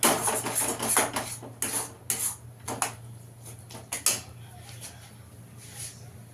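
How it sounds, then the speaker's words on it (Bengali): Kudli bharta ingredients being stirred together in a bowl with a spoon: scattered scraping and clinking taps, quiet and irregular, over a faint steady background hum. "ভালো করে সব মিশিয়ে নেব।"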